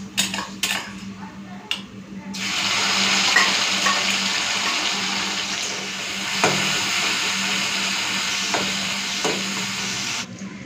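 Mourala fish frying in oil in a pan, a steady loud close sizzle lasting several seconds, with occasional utensil clinks and scrapes at the start and through the frying.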